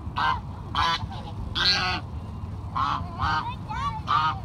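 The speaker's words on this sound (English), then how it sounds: "I think these are geese." Geese honk repeatedly nearby, loud nasal calls overlapping in uneven bursts, some rising in pitch, over a low background rumble.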